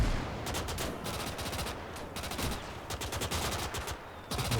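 Rapid gunfire in a WWII real-time strategy battle, bursts of rifle and machine-gun shots crackling in quick volleys, fairly close and continuous over several seconds with brief gaps.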